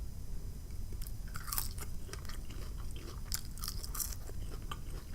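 Fries get bitten and chewed close to the mic at a mukbang spread of ghost pepper wings and butterfly shrimp, with soft crunches and wet chewing in an irregular rhythm and no talking.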